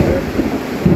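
Thunder rumbles low and loud through a rainy storm, a brief deep roll close by over the steady patter of rain.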